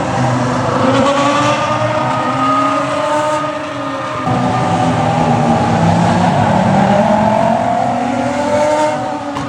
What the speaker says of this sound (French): je voulais vous mettre un petit clip des Ferrari qui roulaient le lendemain que j'ai filmé sur mon iPhone parce que le son de ces voitures, c'est un délire